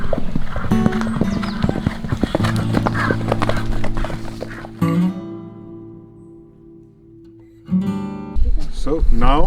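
Horses on the grounds of Kikar Lodge, with hooves clip-clopping steadily and a loud neigh or whinny breaking through, close by, while people talk over much of it.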